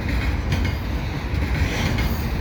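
A CN intermodal double-stack freight train, mostly empties, rolls past near Dorval in Montreal, a loud, steady rumble of rail cars with faint clickety-clack and no voices.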